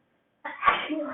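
A single close, forceful sneeze bursts out of silence, trailing off into a breathy, voiced tail.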